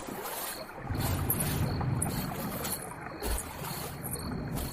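Water sloshing and splashing as someone crosses a river on foot, a continuous rushing wash with gusty, wind-like texture and occasional heavier swishes, no talk.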